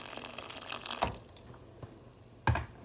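Boiling water poured from a pot into a soup of chicken broth and corn, giving brief splashing pours with two sharper splashes and trickling in between, close by and fairly quiet.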